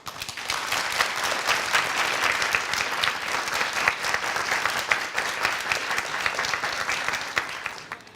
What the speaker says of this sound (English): Let's give our contenders another big round of applause.